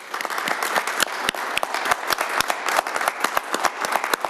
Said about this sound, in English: ask everyone just to do a quick round of applause for him